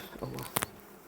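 Honeybees buzzing around hives during a spring inspection, a close, steady hum with a couple of brief sharp knocks partway through.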